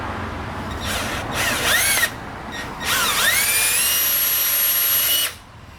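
Power drill with a 1/4 inch bit routing out a hole in a Jeep Wrangler JK body for a CB radio antenna, two loud whining bursts with the pitch sliding up and down as the bit bites.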